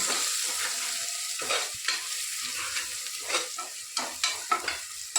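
Spices with a little turmeric frying in a pan for masala rice, a steady close sizzle with soft stirring scrapes and light taps of a spoon against the pan, no voices.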